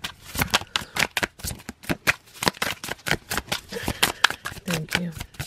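A tarot deck is shuffled in quick, crisp bursts of riffling card flutter, close and repeated throughout, with a voice speaking softly in the background.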